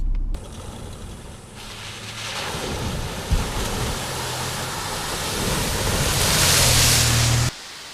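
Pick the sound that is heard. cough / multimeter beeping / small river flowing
small river flowing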